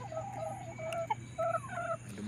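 A hen clucks in a series of short, repeated calls after laying an egg in a dim early-morning coop. The clucks are close and moderately loud over a steady low hum, and no one speaks.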